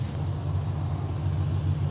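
Carbureted car engine warming up after a carburetor fix, a steady low rumbling drone held evenly for a couple of seconds with no talking.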